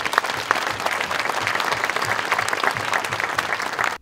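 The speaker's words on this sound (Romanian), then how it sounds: "Eu o să încep prin a vă aplauda și să vă aplaudați voi pe voi" Campaign-event audience applauding loudly and continuously, dense hand claps filling the space for several seconds with no speech on top.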